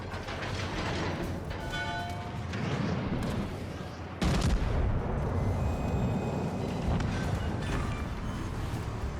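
Warship guns of the battlecruiser Derflinger firing in World of Warships Legends, a series of heavy booms and rumbling blasts with a sharp, loud salvo midway, dense and continuous.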